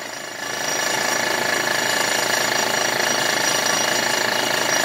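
A 70-year-old Sears Roebuck air compressor runs alone with a steady, loud mechanical drone and a fast rattling buzz that holds constant after a brief rise at the start.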